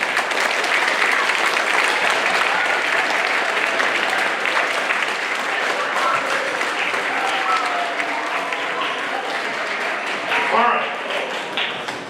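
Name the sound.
audience applause at school concert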